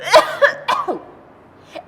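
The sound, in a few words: voice imitating coughing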